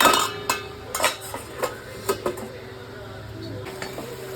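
Metal lid set onto a cooking pot during Bengali chicken kasha, a series of sharp clanks and clinks at irregular intervals, near and moderately loud over a steady low kitchen hum.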